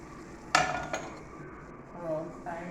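Metal lid set onto a pot of brown stew fish, one sharp clank followed by a smaller knock, then a soft simmering hiss and faint kitchen clatter.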